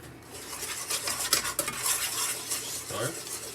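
Goat meat with black pepper and other spices stirred in a pot for Jamaican-style BBQ goat: a steady, close scraping and clinking of a utensil against the pot, continuous for a few seconds with a faint sizzle underneath and no voices.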